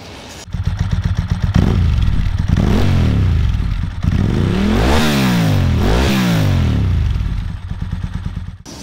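Ducati 748 motorcycle with twin Termignoni exhausts revving hard: a loud, close twin-cylinder engine blipped up and down in repeated swelling revs, with a rumbling idle between, no talking.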